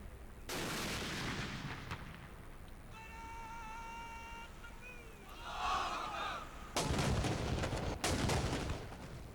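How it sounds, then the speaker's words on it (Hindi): Ceremonial cannon salute fired at dawn for the Prophet's birthday in Pakistan, heard as sharp broadband booms, with the loudest blasts late in the stretch amid crowd noise and a brief whistling tone. "दिन के आगाज़ पर वफाकी दारुल-हुकूमत में 31 और सूबाई दारुल-हुकूमतों में 21-21 तोपों की सलामी दी गई।"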